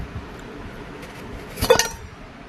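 A new steel lunch box with a tight lid is opened, giving a short cluster of bright metallic clinks close by against faint room quiet.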